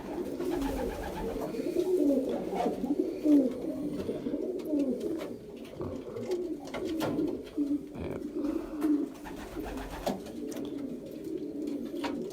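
A 10-year-old champion racing pigeon in a breeder's loft coos in repeated low, throaty phrases that continue throughout, close by, while people talk over them.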